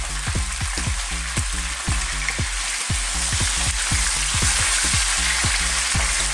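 Carrots and onions fry in oil for a sweet and sour fish dish, giving a steady loud sizzle with a dense crackle and a low rhythmic knocking of stirring underneath, no voices.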